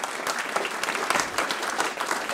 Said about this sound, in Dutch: Eerst een applaus voor Joep.